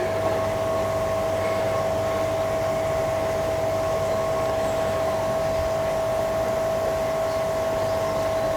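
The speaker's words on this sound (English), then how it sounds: "let's turn the air pump back on and we should get air coming out the aerated bottom drain to start with" An air pump runs steadily to aerate a koi pond's bottom drain, giving a constant mechanical hum with a fixed tone and a faint hiss of air. It stays even throughout with no talk.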